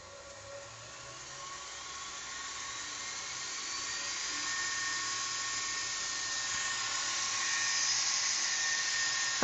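A homemade 2x72 belt grinder whines up to speed, its steady high-pitched motor and belt hum growing gradually louder and rising over several seconds, close and continuous with no talking.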